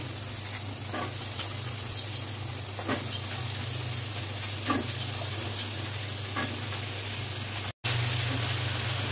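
Steady crackling sizzle of potatoes and pointed gourd frying in a hot pan, with occasional scraping stir sounds and a low constant hum underneath.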